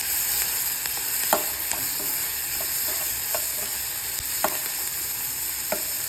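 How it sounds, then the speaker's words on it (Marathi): Onion frying in a pan with turmeric and salt: a continuous sizzle with occasional sharp taps and scrapes from a stirring spoon, at moderate volume and without speech. "मग छान कांदा परतत आला, असा लालसर होत आला की आपण त्यामध्ये हळद, मीठ टाकून घेऊ."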